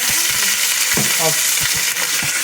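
A beef roast browns in a hot pan with a continuous bright sizzle and crackle, close and loud, broken by a few soft knocks and scrapes as the meat is moved.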